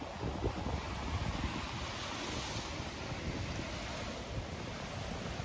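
Waves wash steadily over shells on a beach, giving a continuous hiss and rush with a faint clattering texture and some wind noise, without talk.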